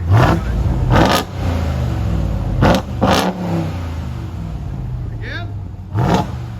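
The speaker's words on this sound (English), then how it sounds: "RAM TRX. This is what it sounds like before, guys." A 2022 RAM TRX with its stock exhaust revs up in several short, loud bursts over a steady idle rumble, with brief pauses between blips and a voice briefly audible.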